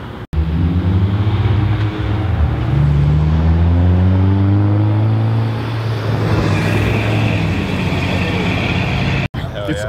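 Loud muscle car engines rev and roar continuously, with rising and falling pitch like cars doing burnouts and drifting out of parking lots nearby, voices faintly mixed in.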